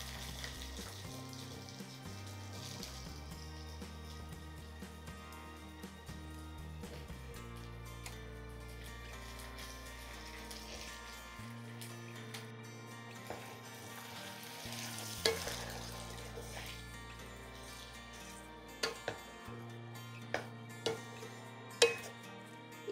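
Raw banana pieces frying with golden onions in a pan: a quiet, steady sizzle close by, with a few soft clicks and taps near the end, under a faint background hum.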